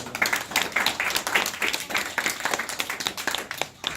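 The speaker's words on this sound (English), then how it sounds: "Give them a round of applause." Dense, continuous applause from a crowd at a student simulated congressional hearing, a fairly quiet, even patter of many hands clapping that lasts throughout.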